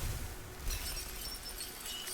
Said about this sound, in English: What's with the sounds of shattering glass?